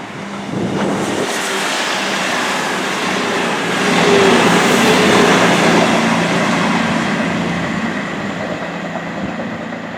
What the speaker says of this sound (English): We're going to be leaving Christchurch railway station on the 12:10 South Western Railway service